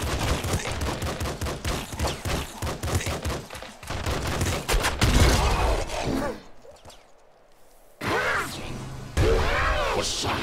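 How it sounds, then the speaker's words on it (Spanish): In the video game Nuclear Throne, a grenade launcher explosion comes amid rapid bursts of gunfire and loud blasts, followed by a short quieter stretch before the chaotic shooting resumes. "la explosión de la granada de launcher me ha quitado 10 de vida"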